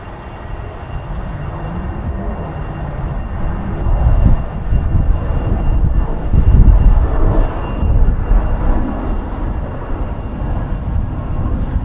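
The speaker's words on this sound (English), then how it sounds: "Looks like we got another Mitsubishi CRJ" A Mitsubishi CRJ regional jet at Charlotte Douglas Airport, its engines producing a loud, sustained broadband roar that swells midway and stays heavy throughout, heard alone without voices.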